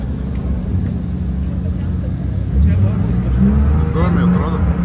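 An Audi's engine drones and swells in pitch at a drift event, rising twice under nearby chatter amid crowd ambience.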